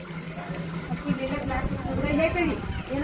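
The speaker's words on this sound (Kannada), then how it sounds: "ಡೈರೆಕ್ಟ್ ಪೈಪ್ ನಳಕ ಸಿಂಟ್ಯಾಕ್ಸ್ ತುಂಬಿತೇವ ನೀರು ಬಂದು ಬಾತೈತ" Water gushes and gurgles steadily from a direct pipe filling a Sintex tank, with people talking nearby over the flow.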